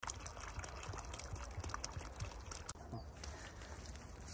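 Water pours steadily into a soil and fiber mix for building a pizza oven, a faint, continuous wet splashing and trickling with soft low thuds throughout.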